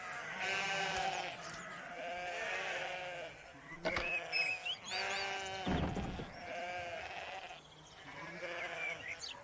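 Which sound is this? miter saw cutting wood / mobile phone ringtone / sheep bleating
sheep bleating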